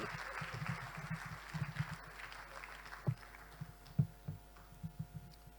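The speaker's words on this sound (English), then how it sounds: "Please, let's keep clapping." An audience claps at a women directors' biennial conference to welcome keynote speaker Babatunde Raji Fashola. The sustained clapping rings through the hall with a loose rhythm and fairly faint, uneven bursts.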